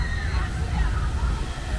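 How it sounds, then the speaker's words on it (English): Rushing, sloshing water of the Infinity Falls river rapids ride at SeaWorld Orlando, a loud continuous churn with faint crowd babble behind it. "which is a river rapids ride"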